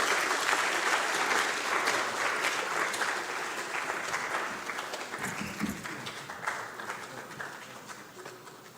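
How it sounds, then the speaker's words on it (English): An audience at an academia-industry and research innovation conference applauds with dense, sustained clapping that fills the room and fades slowly as it goes on. "So can we please give them a round of applause as we end?"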